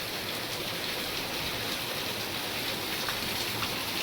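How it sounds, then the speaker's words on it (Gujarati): A sudden downpour falls hard and continuously in rural Gujarat, a steady, full hiss of rain on surfaces with no letup over the few seconds and no voices. "ફૂલ વરસાદ વધી ગયો ભાઈ છે, ફૂલ વરસાદ વધી ગયો."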